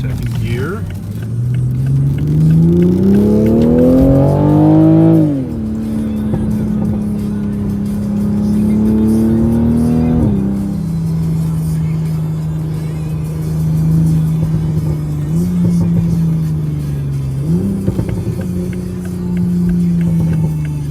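Toyota Supra 2020 with active exhaust pulling hard through the gears, engine note rising steadily then dropping at each upshift and downshift, a loud, close, continuous drone with someone talking over it.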